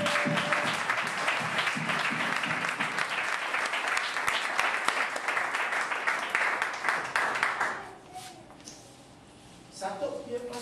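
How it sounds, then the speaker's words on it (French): An audience at a church gathering with a bishop breaks into loud, sustained applause for about eight seconds, dense clapping that cuts off abruptly before a voice resumes speaking. "On peut applaudir véritablement."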